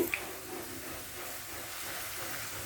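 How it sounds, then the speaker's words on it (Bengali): Chopped onions sizzle in a pan over medium heat, a steady, soft, even hiss that runs unbroken and fairly quiet throughout. "আগে থেকে কেটে রাখা পেঁয়াজ কুচি ঢেলে দিব"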